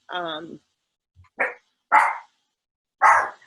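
A dog barks three times, sharp and close, after a brief whine, with short silences between each bark.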